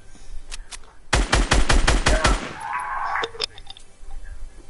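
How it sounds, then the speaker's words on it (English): Gunfire in a video game: a rapid automatic burst of about eight loud shots rattles close by, followed by scattered single shots and ringing game effects, with no talking. "I'm gonna shoot him down."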